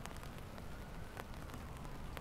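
Soft, steady rain falls with a continuous hiss, and faint droplet ticks scatter through it at a low, even level.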